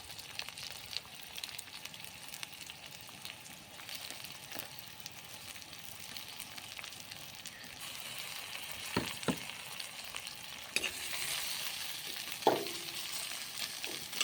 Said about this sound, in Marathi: त्यामध्ये कांदे पहिले आपल्याला फ्राय करून घ्यायचे गोल्डन ब्राऊन होईपर्यंत